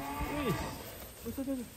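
A cow moos twice in short, nasal calls with a brief pause between them, fairly close and clear against faint background noise.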